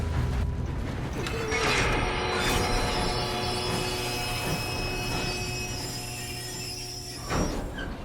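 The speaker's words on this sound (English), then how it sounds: "We have to stop this train." A train runs in Red Dead Redemption with a steady rumble, rattling mechanical clatter and sustained metallic whining tones, close and continuous, ending in a brief clunk.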